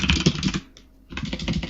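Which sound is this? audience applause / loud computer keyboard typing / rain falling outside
loud computer keyboard typing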